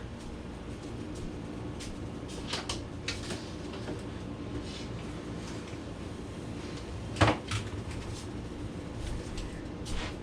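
A kitchen freezer door opens and shuts with a brief thump and rattle amid low room hum, moderately close, no talking.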